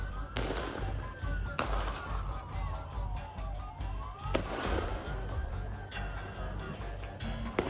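Gunfire during an attack at Bondi Beach, captured in news footage: repeated sharp shots crack out at irregular intervals over a busy outdoor background with a rising and falling siren-like tone.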